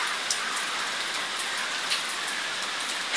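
Rain falls steadily outside a house during a power outage, a constant bright hiss with scattered drop ticks, fairly close and even, with no talk.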